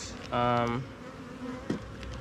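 Honey bees buzz around an open hive during an inspection in a nectar flow, a steady insect drone with one louder, nearby bee passing close, under a quiet background.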